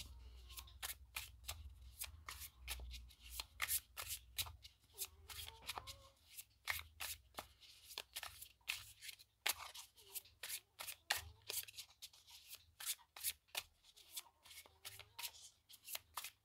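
Tarot cards being shuffled by hand, a close, repeated run of crisp riffling flicks and slaps in an uneven rhythm, with brief pauses between bursts and no talking.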